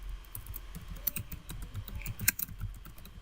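Rapid key clicks from a computer keyboard, steady and fairly close, with short bursts and brief pauses as someone types a search phrase; no one talks.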